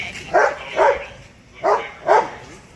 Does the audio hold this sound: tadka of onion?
no